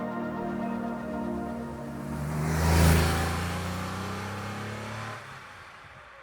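A 1976 Porsche 911 engine drones steadily as the car drives along an open road, swelling to a louder pass-by peak midway before fading, with no talk over it.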